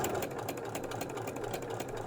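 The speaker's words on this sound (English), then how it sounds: "Let's get ready to do our twin needle hemming." A sewing machine hems with a 4mm twin ballpoint needle. The steady, fast mechanical stitching has a rapid, even rhythm and sounds close and continuous, with no voices.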